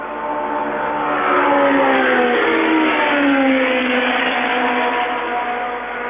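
Formula One cars of the 1970 Italian Grand Prix at Monza scream past at high revs, and the engine note rises and falls as they sweep by loud and close.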